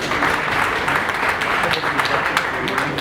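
Loud, sustained applause from an audience at a chamber of industries and services event, a dense, steady wash of clapping with no break, close and full.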